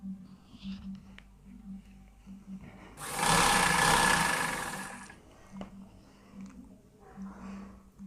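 A sewing machine stitches a suit lining in a loud, buzzing run lasting a couple of seconds, with someone speaking softly before and after it.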